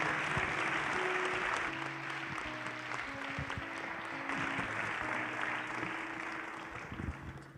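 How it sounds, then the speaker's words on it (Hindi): Applause from a church congregation at a Christian worship programme, a steady dense roar of clapping sustained throughout, with faint tonal music sounding beneath it. "खुदावंद के जलाल के लिए जोरदार तालियां बजाएं।"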